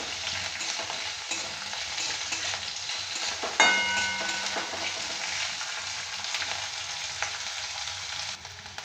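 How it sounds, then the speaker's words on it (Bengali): Chopped onion fries in a pan while being stirred, with a dense continuous sizzle close by and a sharp metallic clink partway through. "এটা ভালো করে নেড়ে চেড়ে ভেজে নিতে হবে পেঁয়াজটা।"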